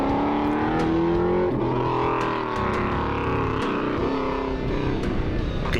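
Drift car engine driving through a slalom course, heard from on board: a loud, continuous roar with rising and falling revs, the pitch climbing and dropping as it moves through the gates, no talk.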